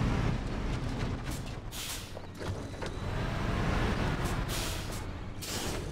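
A truck in the Expeditions: A MudRunner Game video game rumbles with a loud, constant engine roar, broken by several hissing bursts like air brakes releasing.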